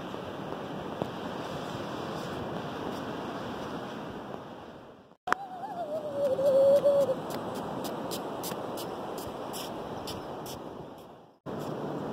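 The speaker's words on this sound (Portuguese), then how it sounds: "A maré vai batendo" Ocean waves wash steadily onto the shore at Ilha do Mel, Paraná, as a continuous broad roar with a brief break and a sharp knock midway, then a short gap near the end.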